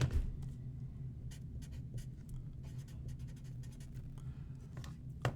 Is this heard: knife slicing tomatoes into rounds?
no